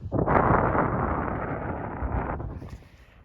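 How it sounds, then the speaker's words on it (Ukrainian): A strong gust of wind roars loudly across the microphone for a few seconds over frozen, snowless rapeseed and winter crop fields, then dies away into a faint hiss. "Тут вітер, чуєте який вітер?"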